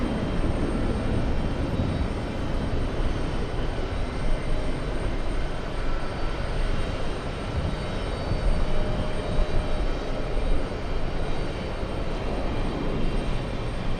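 A Guyana airliner moves at JFK airport, its jet engines giving a steady, broad roar that holds evenly throughout with no voices over it.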